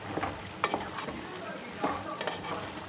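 Cooked mixed legumes are added to a pan with tomato and stirred, a soft sizzle running underneath as a spoon scrapes and stirs in several short strokes.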